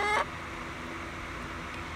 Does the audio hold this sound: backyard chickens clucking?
yes